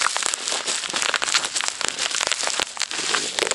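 Bubble wrap squeezed and popped by hand gives a dense, close run of crackling snaps and sharp little pops over several seconds.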